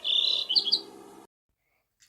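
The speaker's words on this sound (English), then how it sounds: "The robin is singing." A robin sings a short, bright burst of chirping notes, close and clear, then cuts off to silence before another faint sound begins.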